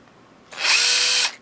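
After a moment of quiet, a power drill whirs up sharply, runs at a high steady whine for under a second, then stops.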